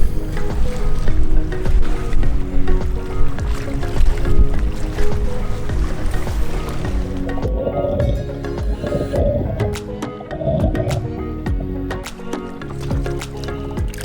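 Wake waves from a passing boat slap and slosh loudly against a hull at close range, with churning water over a steady rumble. Splashy bursts come later.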